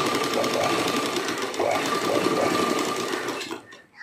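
A sewing machine stitches fabric steadily at a slow pace, its motor hum and needle clatter running continuously and fairly loud, then tapering off at the end.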